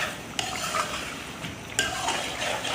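A spoon stirs chicken in desi ghee inside a handi, a steady wet scraping sizzle with a few sharp clinks against the pot, close and alone.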